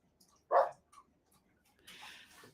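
Dogs at a horse yard bark once sharply and close, then give small yips and a whiny, breathy whimper, with quiet gaps between.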